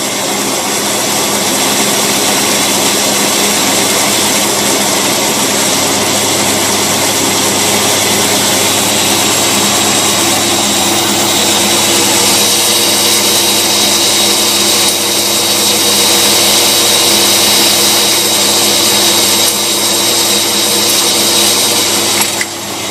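A boat engine fitted with a Rochester two-barrel carburetor runs continuously at medium speed, a loud, steady mechanical drone with a slight rise in intensity midway, no talking.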